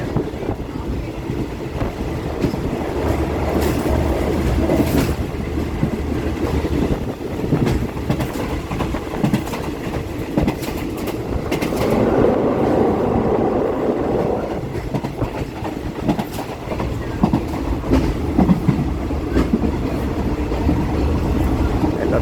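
A passenger train runs on the rails in Thailand, heard from inside a second-class fan-cooled carriage: a steady, loud rumble with rhythmic clacking and rattling that continues throughout, with a brief swell midway.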